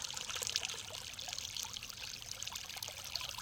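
Tungabhadra dam water runs along the HLC canal beside a farm field, a soft steady trickling and pouring wash with faint splashes, quiet and continuous with no voices.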